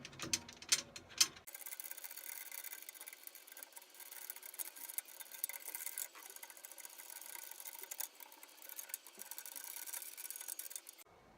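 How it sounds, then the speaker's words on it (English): Snare drum tension rods are turned loose by hand, giving small metallic ratcheting and rubbing clicks, close but quiet, after a brief louder handling noise at the start. "you can go ahead and start hand loosening them in any order you want"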